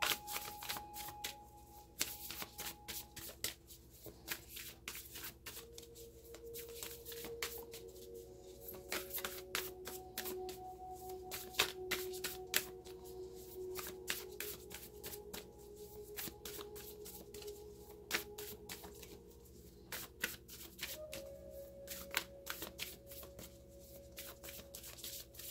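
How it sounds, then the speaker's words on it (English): A deck of cards shuffled by hand, the cards sticking together in big chunks instead of riffling smoothly, giving steady rapid riffles and snaps throughout, close and fairly quiet, with a faint tone humming underneath. "somehow it just gets stuck together in big chunks like this, and it doesn't shuffle smoothly"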